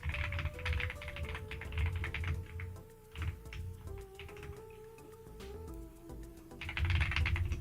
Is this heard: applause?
no